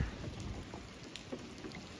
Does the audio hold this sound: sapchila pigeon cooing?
no